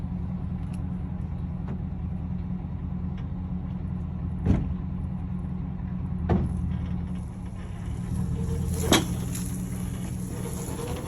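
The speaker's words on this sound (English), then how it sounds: "Oh, it's a tow truck." Tow truck with a 460 engine idling in a garage, producing a steady low rumble with a few faint clanks and clicks over it.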